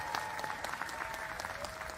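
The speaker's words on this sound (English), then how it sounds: "Let's give them a round of applause." Applause for honorary degree recipients at a Howard University graduation ceremony, a steady crowd clapping throughout, fairly distant and quiet, with a faint sustained tone behind it.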